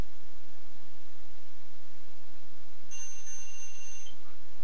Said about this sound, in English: I heard you, timer.